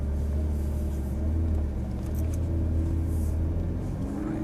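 A Ferrari 458 Italia pulls away slowly in first gear, its engine a steady low rumble heard from inside the car, with no hard revving.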